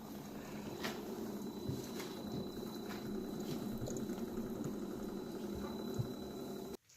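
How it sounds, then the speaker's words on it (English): A Ninja Hot & Cold Brewed System brews tea, giving a steady low bubbling and hissing hum with faint clicks and gurgles, constant until it cuts off abruptly near the end. "while we wait for this tea to brew"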